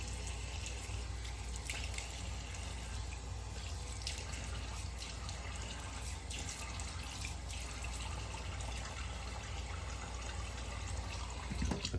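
A tap runs steadily into a sink for rinsing off after a straight-razor shave, a continuous close splashing stream with no pauses and no talk.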